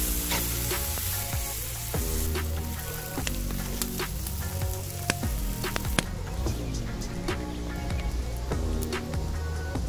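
Food fries in a pan over a campfire during an overnight bivouac in Sylling, Norway, giving a loud, close, continuous sizzle dotted with crisp pops and crackles throughout.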